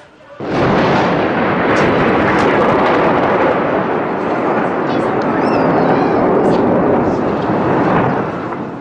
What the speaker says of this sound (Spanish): Una bomba de no menos de 300, tal vez más libras, lanzada por la Fuerza Aérea Saudita.